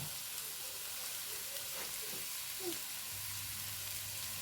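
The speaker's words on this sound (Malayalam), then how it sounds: "ചോപ്പ് ചെയ്ത് വെച്ച ഉള്ളിയാണ് ഇട്ട് കൊടുക്കുന്നത്." Chopped onions frying in a pan, a steady broad sizzling hiss with faint stirring scrapes, continuous and moderately quiet, no one talking.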